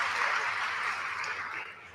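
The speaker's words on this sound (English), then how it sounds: "there's a little round of applause back there" A small round of applause from the audience at a girls' division school awards ceremony, a dense wash of clapping that stays steady and fades slightly near the end.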